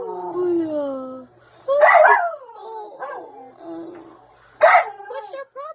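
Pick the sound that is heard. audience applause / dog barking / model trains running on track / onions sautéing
dog barking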